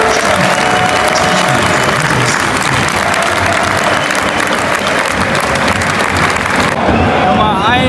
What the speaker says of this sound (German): Ja, mal Applaus.